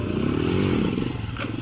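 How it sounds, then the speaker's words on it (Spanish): A motorcycle engine rises in pitch as the bike is lifted into a wheelie, revving steadily and fairly close for over a second, with a brief clatter near the end. "Lo que está haciendo es levantar la moto poquito y estar haciendo la función del freno"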